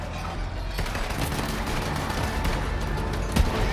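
Low-level guns fire in a video game as a dense, steady stream of rapid shots and booms throughout, loud and close with no speech over it.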